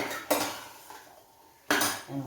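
A metal utensil clacks and scrapes against a pot while mashing cooked jackfruit seeds, two sharp knocks with quieter stirring scrapes between them, close and alone.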